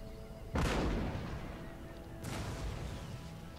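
Two booming volleys of cannon and musket fire in an Empire Total War battle, each a sharp blast trailing into a rumbling decay, the second about two seconds after the first, fairly distant with background battlefield ambience.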